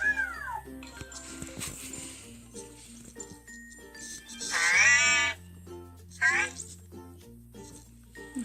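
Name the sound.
Cozmo robot by Anki making surprised reaction sounds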